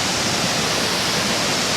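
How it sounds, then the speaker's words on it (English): Kravica waterfall in Bosnia and Herzegovina pours in a steady, loud broadband roar of falling water, continuous and close, with no voices standing out over the rush. "This is the famous waterfall."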